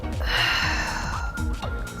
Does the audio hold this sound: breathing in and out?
yes